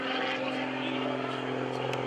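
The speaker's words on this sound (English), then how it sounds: "Gary Ward out there in his JCP&L sponsored airplane" Gary Ward's JCP&L-sponsored aerobatic propeller airplane at the 2013 Greenwood Lake Airshow gives off a steady droning engine hum throughout, with an announcer talking over it.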